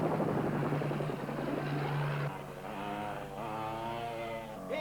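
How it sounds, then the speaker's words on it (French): A helicopter's steady rotor thrum fills the clip, loud at first and then shifting in tone as the aircraft pulls away. "Colt, il est parti, l'hélicoptère est parti"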